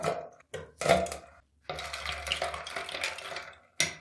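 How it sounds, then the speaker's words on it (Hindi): Ice cubes clatter into a glass of raisin and fennel sharbat, a few sharp knocks and rattles separated by short pauses, then a longer run of clinking and sloshing as they settle, close and moderately loud with no talk. "आइस क्यूब शामिल करेंगे"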